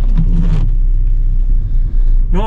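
A warm 2007 Hyundai i30 1.6 CRDi 85 kW diesel starts and settles into a steady, close idle rumble, with a short rising revving burst at the end.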